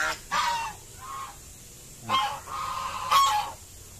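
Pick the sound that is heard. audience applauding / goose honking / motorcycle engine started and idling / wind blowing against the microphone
goose honking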